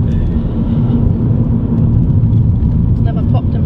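A MINI John Cooper Works on bendy roads, its exhaust popping and banging through a loud, steady engine rumble, with a few sharp crackles near the end.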